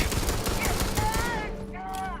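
Rapid gunfire in the space game Starfield, a quick burst of sharp repeated shots in the first second and a half, followed by electronic whines and game effects fading down.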